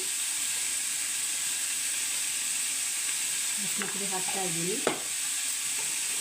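Spices including half a spoon of turmeric powder frying in a pan, a steady broadband sizzle throughout with a few brief scraping stirs and a clink near the end, no talking.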